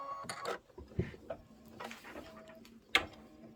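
An embroidery machine sews a basting stitch on a Santa cinch sack project, giving a soft mechanical whir with light ticks and clicks, faint and close, with no talking.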